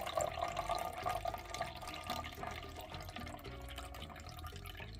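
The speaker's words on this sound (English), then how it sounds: "So guys, we are going to let out our third batch of juice." Homemade coconut-based Christmas juice drains out of a container in a steady, continuous trickling pour, close and moderately loud for the whole stretch, with no voices.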